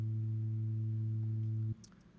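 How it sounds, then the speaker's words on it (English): Three steady synthesized sine tones hold together, the highest one much fainter than the two lower ones, then all cut off abruptly, leaving near silence. "I can still hear all three tones"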